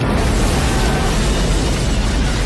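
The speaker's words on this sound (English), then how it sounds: "he's not looking back at the explosion because he just assumes the guy got out of the car" A car blows up in an action movie scene, a loud, sustained roaring blast rumbling and crackling for a couple of seconds with no voices over it.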